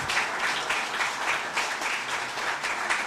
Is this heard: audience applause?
yes